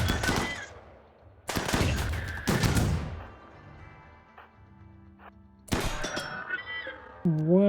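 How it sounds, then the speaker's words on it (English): Bursts of RimWorld game gunfire, several loud broadband volleys near the start and again later, with quieter gaps and faint tonal game sounds between. "You're shooting at us from down there."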